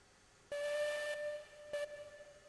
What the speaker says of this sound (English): I hear a whistle above me.